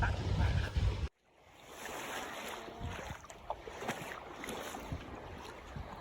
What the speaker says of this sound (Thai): ฟังน้ำค่ะน้ำใสมาก